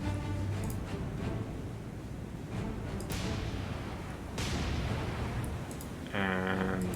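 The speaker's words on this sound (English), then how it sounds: "And Nashville is firing at the Matsuki, and it looks like we had a hit." Naval gun salvos from the cruiser USS Nashville firing on the destroyer Matsuki in War on the Sea, several deep booming shots over a dense rumbling sea-battle background, with a tonal alarm-like sound near the end.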